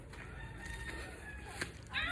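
Chickens at Armstrong game farm in Antipolo, a rooster farm, cluck and crow faintly amid steady background noise, with a brighter crow rising near the end.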